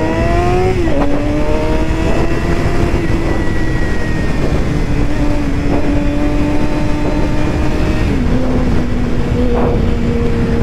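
A Suzuki GSX-R 750 motorcycle engine drones steadily and close while riding, its pitch stepping down a couple of times as the gears shift. No voices are heard.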